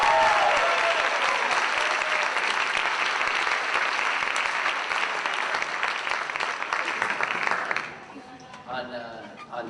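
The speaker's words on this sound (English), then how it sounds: "Please give a warm round of applause to Joshua Crump." At a jazz workshop combo concert, an audience claps warmly for bassist Joshua Crump, a dense, loud wash of applause that thins near the end as a voice begins talking.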